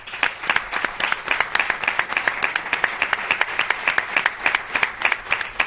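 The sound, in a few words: audience applause for a flamenco singer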